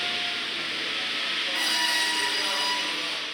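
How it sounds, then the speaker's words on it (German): An automated carpentry machine makes its first cut into timber for a carport, giving a continuous loud, dense whirring and grinding with a slight rise partway through, and no voices. "Und die Maschine macht den Anschnitt."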